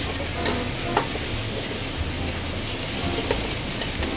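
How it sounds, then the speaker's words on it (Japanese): Meat stir-fried in a pan for tantanmen, with a steady close sizzle and hiss broken by occasional scraping stirs of a utensil against the pan. "ここはゆっくりと時間をかけながら炒めていきましょう"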